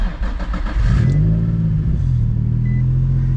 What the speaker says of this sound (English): But when I start my car now,